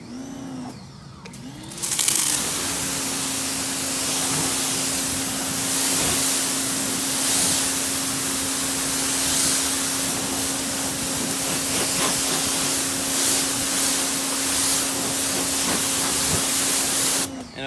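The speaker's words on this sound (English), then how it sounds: "I'm going to rinse off the panel." A car panel gets rinsed with a continuous hissing water spray that starts abruptly and runs steadily for a long stretch, close and loud, with a faint machine hum beneath and no talk.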